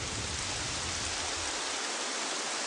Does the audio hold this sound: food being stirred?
no